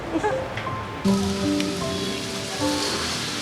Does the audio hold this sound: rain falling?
yes